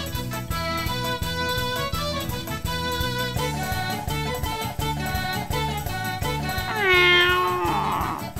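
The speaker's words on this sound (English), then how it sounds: "That does not sound like a very worried cat to me at all" A cat meows in the visual novel game If My Heart Had Wings, a short rising and falling cry near the end that rides over steady, bright game background music.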